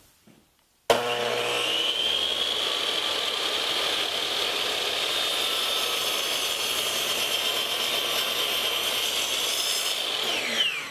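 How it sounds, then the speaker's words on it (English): A miter saw starts abruptly and cuts through picture frame molding, a loud close steady whine with dense buzzing texture held for about ten seconds before winding down, no talking. "I just made my first miter cut, and this is the miter for the right side."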